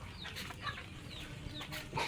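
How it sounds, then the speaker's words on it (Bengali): Chickens and ducks being herded into their coop at dusk in a village yard give several soft, short clucks and calls, faint and scattered over a quiet background. "এখন আমি হাঁস কুকড়াগুলি ধরিয়ে দেবো"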